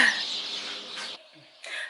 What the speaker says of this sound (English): I love hearing the birds.